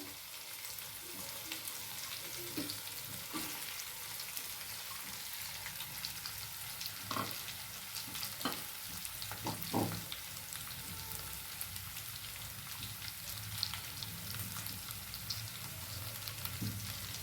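Ground masala is added to brinjal curry frying in a kadai. A continuous, fairly soft sizzle runs throughout, broken by scattered clicks and scrapes of stirring, with no talking.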